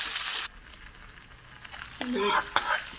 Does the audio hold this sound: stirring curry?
yes